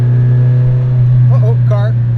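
Ferrari 308 engine humming steadily from the cabin while cruising on a country road, a loud even drone with a short stretch of talk over it.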